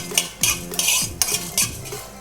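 Whole fennel, cardamom, cloves, cinnamon and star anise are stirred in a hot pan, making a handful of quick scraping, rattling strokes with a light sizzle underneath and no talking.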